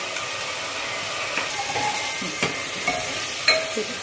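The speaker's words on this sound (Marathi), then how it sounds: "कांदा टोमॅटो आणि आलं लसूण हिरवी मिरची कोथिंबीरची पेस्ट परतून झालेली आहे" A paste of onion, tomato, ginger, garlic, green chili and coriander sautéing in a pan, giving a steady close sizzle with occasional spoon scrapes and taps.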